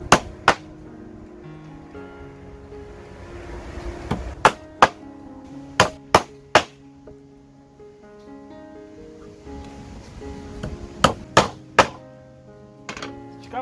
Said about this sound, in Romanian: Pe partea asta nu-i dau decât două cuie, că nu e nevoie de mai mult, nu e necesar.